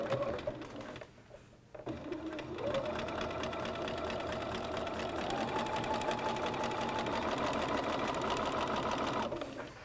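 A sewing machine stitches wool fabric for regalia, running in a steady continuous whir for most of the stretch after a brief start-up pause, close and fairly loud with no talk over it.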